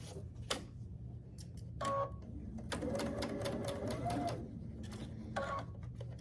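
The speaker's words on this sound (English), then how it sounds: "Now I'll sew down this side at 1/4 inch." A sewing machine stitches quilt pieces at a quarter-inch seam in quiet, brief bursts of fast mechanical clatter, the longest run lasting about two seconds, separated by short pauses.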